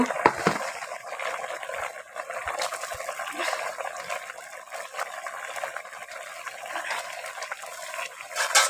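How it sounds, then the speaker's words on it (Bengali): Shrimp are added to a simmering pan on a village clay stove, giving a steady close bubbling and sizzling hiss with a few soft knocks, continuing throughout. "চিংড়ি মাছগুলোকে দিয়ে দিলাম"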